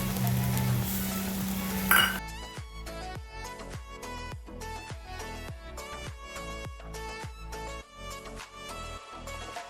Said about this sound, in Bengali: যে বাঁধাকপি আর আলুটা নেড়েছি তার মধ্যে এই মশলাটা ঢেলে দেব